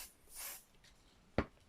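A short spray from a spray bottle gives a quick, close, sharp hiss onto fabric lining during the sewing of a TN journal cover, with a faint breathy swish just before it in an otherwise quiet room.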